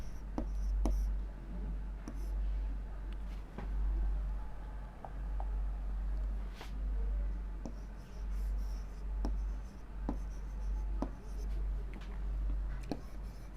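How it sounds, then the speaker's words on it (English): Pen scratching on paper while writing out an answer for a Class 3 worksheet exercise, a faint, steady scraping with light taps under a low hum, no talking. "so I can write here my mother helps me"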